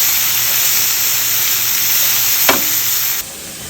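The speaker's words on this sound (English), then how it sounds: "And now it's time to add the garlic." Garlic frying with mushrooms and bok choy stems in a hot pan, a steady loud hiss and sizzle throughout with a brief clatter near the middle.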